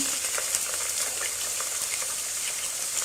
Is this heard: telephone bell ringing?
no